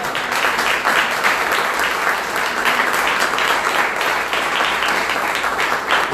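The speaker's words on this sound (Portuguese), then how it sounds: "Você pode aplaudir o Senhor essa noite?" A church congregation applauding the Lord during an evening service, with dense, steady clapping from many hands that runs loudly for several seconds without a break.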